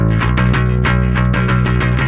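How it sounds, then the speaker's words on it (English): A distorted punk bass guitar through a SansAmp-style pedal plays a driving run of repeated plucked notes, with bright string rattle and clank on each attack, loud and alone. "You hear all that rattling in there, all that string noise."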